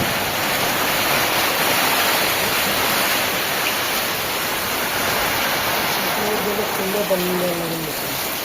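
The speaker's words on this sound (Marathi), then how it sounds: "खतरनाक पाऊस सुरू आहे" Heavy monsoon rain pours down steadily outdoors, a dense, loud, continuous hiss that fills the whole clip, with a faint voice briefly murmuring beneath it near the end.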